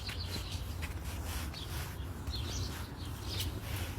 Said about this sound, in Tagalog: Chirping sparrows.